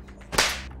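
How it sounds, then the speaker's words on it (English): A sharp slap to the face in a domestic quarrel, one crisp loud smack with a brief broadband burst, standing alone. "I just slapped you."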